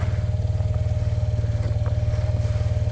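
Four-wheeler ATV moving snow: a close idling engine with a fast, even putter, loud and continuous for a few seconds, no voices.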